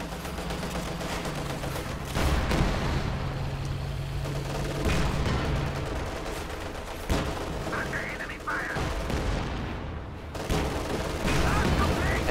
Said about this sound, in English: Howitzers have pinpointed the enemy and are prepared to saturate them with fire.